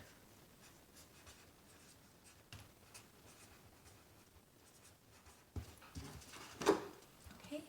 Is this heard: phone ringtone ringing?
no